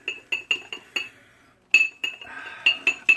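Shaving soap puck knocking loose inside a glass dish, producing a quick series of sharp, bright glassy clinks in uneven bursts, close and alone, with a short pause midway.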